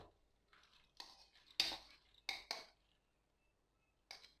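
Dry lentils poured into an empty cooking pot for chicken shami kabab, giving several sharp, bright rattling bursts of grains hitting metal at close range, with short pauses between pours and no talk.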